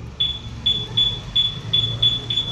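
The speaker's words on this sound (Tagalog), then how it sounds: "Mag-a-alarm lang yung motor, no?" A motorcycle anti-theft alarm on a Senlo M5 Plus sounds a high, piercing electronic beep repeating in quick succession, about seven short chirps in a steady rhythm over a low background hum.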